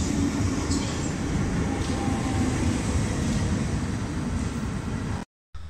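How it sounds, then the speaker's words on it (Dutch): Inside an SGM Sprinter commuter train heading toward Den Haag Centraal, a steady loud rumble of wheels and motors fills the carriage, a constant low roar with faint clicks, cutting out briefly near the end. "Ik zit namelijk op de sprinter richting Den Haag Centraal."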